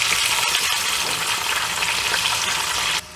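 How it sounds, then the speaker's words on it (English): Garlic deep frying in hot oil for an Egyptian moussaka gives a loud, steady, dense sizzle with crackling bubbles that holds evenly and then drops away abruptly near the end. "we are deep frying our garlic"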